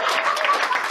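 Audience at an open mic magic show applauds a volunteer called up on stage, a brief dense patter of many hands clapping at steady loudness.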